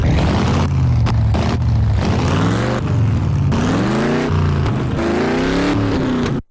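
A nitro-powered RC car engine fires up and revs hard and loud, with repeated rising and falling whining surges close by, then cuts off abruptly.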